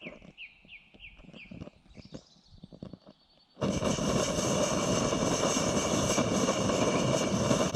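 A Trangia X2 multifuel burner roars as its fuel burns down, a loud, steady broadband rushing that starts abruptly halfway through, preceded by quieter clicking, tapping and faint whistling tones.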